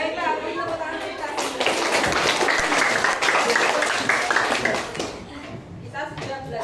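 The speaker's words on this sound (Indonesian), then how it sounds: "Baiklah, tepuk tangan kita." Schoolchildren in a classroom clap their hands together in a dense burst that swells for a few seconds and then fades, with children's voices and chatter mixed in.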